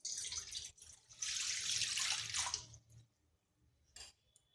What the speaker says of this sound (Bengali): এখানে কড়াই বসিয়েছি, তাতে জল দিচ্ছি।